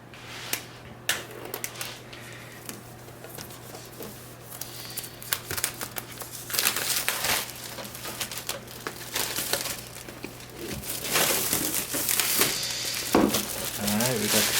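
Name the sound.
plastic wrap being removed from MacBook Pro M1 box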